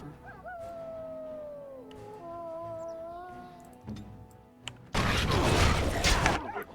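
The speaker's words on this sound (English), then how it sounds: "Dog, you do a howl." A dog howls in the fantasy game Dragon Age: Origins, a long wavering tone that slides downward over a few seconds, followed by a loud burst of harsh noise.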